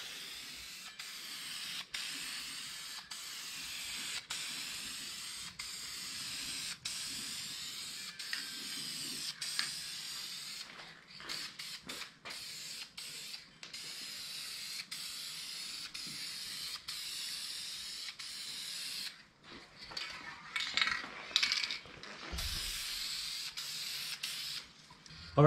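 A spray can laying down a second coat of custom gold paint, steady hissing bursts in repeated passes with brief pauses between them and some clicking handling noises near the end, nearby and fairly quiet, with no talking.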